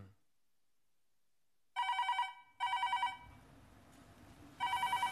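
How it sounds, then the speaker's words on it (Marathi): A telephone rings late at night in a quiet room: after silence come three bursts of bright electronic trilling, each about a second long and loud against a hushed background. "फोन एवढ्या रात्री?"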